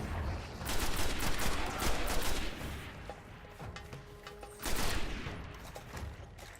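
Rapid bursts of gunfire from shooting enemies in the video game Destiny, set in Old Russia on Earth, crackling in dense volleys with a brief lull before another loud flurry near the end.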